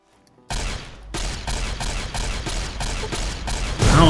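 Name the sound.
gunfire in video game Fallout New Vegas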